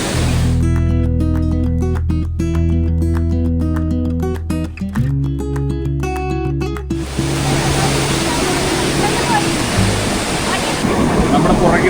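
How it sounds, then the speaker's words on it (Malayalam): Athirappilly Waterfalls in Kerala, India, roar as a loud, steady broadband rush of falling water. It fills the second half of the recording, after a stretch of music. "നമ്മുടെ പുറകിലായി കാണുന്നത് ആണ് നേരത്തെ ഞാൻ പറഞ്ഞ അതിരപ്പള്ളി വെള്ളച്ചാട്ടം"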